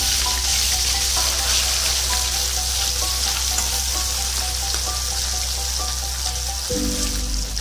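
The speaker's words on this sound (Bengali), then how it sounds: "তেলটা গরম হয়ে গেছে মাছগুলো দিয়ে দেবো মাছগুলো খুবই নরম ওই জন্য অল্প অল্প করে ভেজে নেবো" Bhetki fish pieces frying in hot oil in a pan, a constant close sizzle and crackle with a sharper burst of spitting near the end; no talk.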